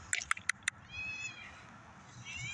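A cat meows up close outdoors, a quick run of four short sharp calls followed by a longer drawn-out meow, with faint background noise.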